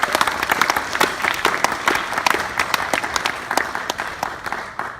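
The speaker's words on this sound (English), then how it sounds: "Can we get a round of applause for those guys?" Wedding guests break into a sustained round of applause, dense and steady handclaps filling the room for the full stretch at moderate loudness, with a few scattered louder claps and faint voices underneath.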